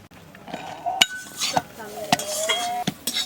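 Knife chopping ginger and green chili in a village kitchen, a few sharp clinking taps against a board or metal bowl spaced irregularly, close and moderately loud.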